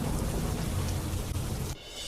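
Heavy monsoon rain pours down on a city street in Delhi as a steady, dense hiss, then drops abruptly to a lighter wash near the end.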